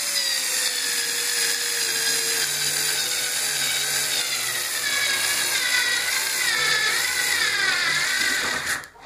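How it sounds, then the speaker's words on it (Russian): A cordless screwdriver driving screws into the rollers of a sliding door, a whining motor with shifting pitch that strains and rises as the screw tightens, then cuts off abruptly near the end. "Отвертка не докручивает до конца. Докручу шуруповертом."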